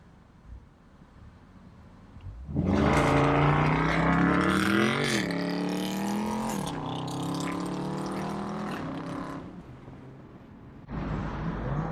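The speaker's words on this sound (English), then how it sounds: "I don't know how to launch this car." A Toyota GR Corolla launches hard from near silence, its engine note climbing through a long wailing rev with a gear change midway, loud and close, then dropping off before a second burst of engine noise.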